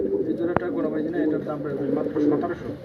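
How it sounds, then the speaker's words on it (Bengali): Pigeons for sale at a home pigeon keeper's coop, some pairs with eggs, give soft low cooing throughout while someone talks over them nearby. "আরও কিছু কবুতর আছে আমি একটু দেখাই আপনাদের"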